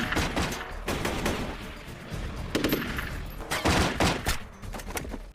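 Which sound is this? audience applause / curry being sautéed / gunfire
gunfire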